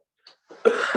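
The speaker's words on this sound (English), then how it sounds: "I'm also like coughing" A single close cough bursts out after a couple of small throat noises, short and husky, in an otherwise quiet room.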